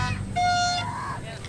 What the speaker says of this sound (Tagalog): Meron ding horn na pinipindot lang, instant pampaingay na.